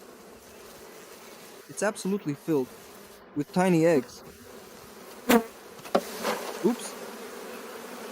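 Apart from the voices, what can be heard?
swarm of honeybees buzzing on a hive frame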